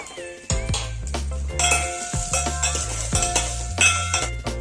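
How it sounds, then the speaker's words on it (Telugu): A metal spoon stirs tempered mustard seeds, curry leaves and charu masala in a pot, scraping and clinking against the metal sides in quick repeated strokes, loud and close with a faint sizzle beneath. "అన్నీ వేసాక బాగా కలుపుకోవాలి"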